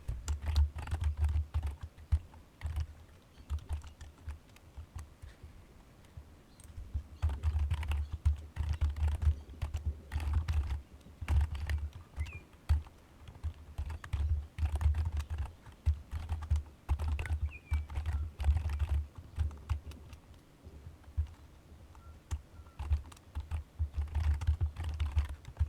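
Python code typed on a computer keyboard: rapid, irregular clacking keystrokes in bursts with brief pauses, close and moderately loud, with no talk.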